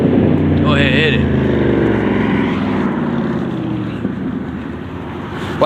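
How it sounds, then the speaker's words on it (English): Car with a loud muffler speeding up on a street, a strong engine roar with a rising whine early on, staying loud and close throughout. "With the loud muffler, the silencer."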